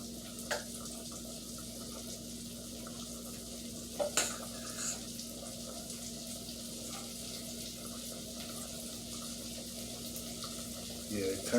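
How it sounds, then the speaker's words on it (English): A steady frying sizzle of chicken in a pan, with a few sharp clicks and pops rising above the constant hiss. "That's sizzling."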